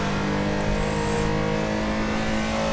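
A race car engine in Assetto Corsa holding a steady, buzzing rev through a fourth-gear corner, close and continuous with even pitch throughout, nobody speaking.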